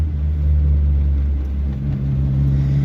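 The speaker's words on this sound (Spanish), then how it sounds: "El coche es francamente ruidoso dentro." Inside the cabin of a classic Renault 10, the engine gives off a loud, constant low drone with a steady hum and slight rises in pitch, heard alone without talk.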